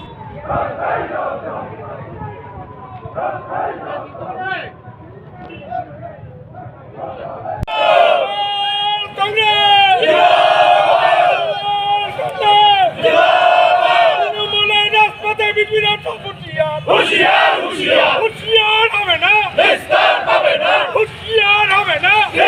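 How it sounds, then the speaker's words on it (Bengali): Trinamool workers at a road blockade chant protest slogans demanding arrests, loud massed voices in rhythmic call-and-response after a quieter stretch of talk and street noise at the start. "তৃণমূল কর্মীরা দোষীদের গ্রেপ্তার এবং শাস্তির দাবিতে স্লোগান তোলেন"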